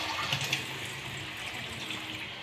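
Water poured into coconut milk in a kitchen while making maja blanca, a steady splashing, running stream heard close up and continuous, with no talking.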